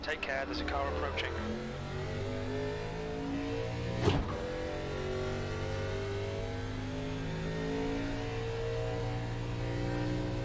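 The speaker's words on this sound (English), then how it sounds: "Take care, there's a car approaching." Another car draws near in an iRacing race, engine note droning and climbing steadily under the player's own car, with a sharp brief knock midway and a faint voice early on.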